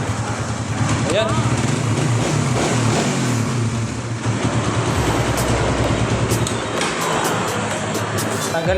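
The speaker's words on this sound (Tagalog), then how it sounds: "So, yan ang andar ng motor niya siya bago natin baklasin." A Rider R150 fuel-injected motorcycle engine with 26k on the odometer idles steadily with a low continuous rumble, heard up close in a workshop with a brief quiet dip partway through.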